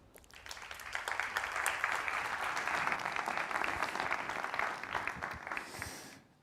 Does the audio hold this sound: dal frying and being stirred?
no